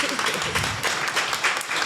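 Audience applauding a live research event, a brief dense wash of many hands clapping steadily, with faint voices underneath.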